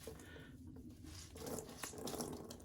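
Cold water runs steadily from a sink tap in winter in New Jersey, a soft continuous splash with no talk.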